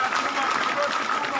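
A crowd at an outdoor political rally applauds the deputy president, with dense sustained clapping heard up close throughout.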